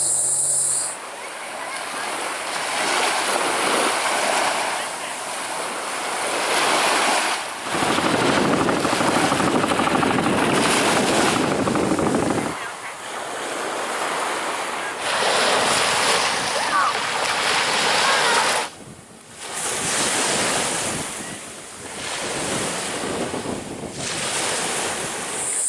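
Ocean waves roll onto the beach at First Landing State Park, Virginia, in long surging washes with brief lulls between, heavy wind rumble buffeting the microphone throughout.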